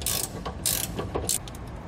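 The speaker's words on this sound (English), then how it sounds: "you may need to use a wrench to get these ones off down here" A ratcheting wrench loosens nuts on a Dexter trailer hub and drum assembly, giving three short bursts of quick metallic clicks, close and fairly quiet, with brief pauses between strokes.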